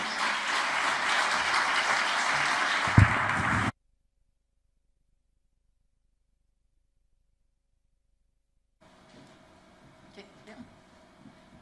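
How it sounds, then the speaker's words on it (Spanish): Church congregation applauding steadily for a few seconds, then cutting off abruptly into silence before faint room noise and murmuring return. "damos un aplauso al Señor por estos siervos"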